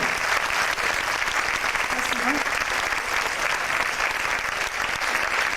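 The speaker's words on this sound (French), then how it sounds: "On peut les applaudir très fort." Loud, sustained audience applause filling the room, a continuous dense roar of many hands clapping without pause.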